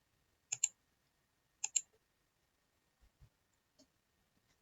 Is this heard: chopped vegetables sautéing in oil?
no